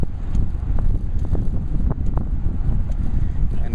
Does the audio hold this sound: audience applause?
no